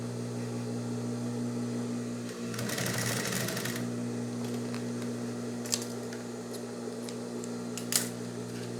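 A sewing machine stitching a strap onto a handmade handbag, a steady close mechanical hum with a brief louder run of stitching, a few small clicks, no speech.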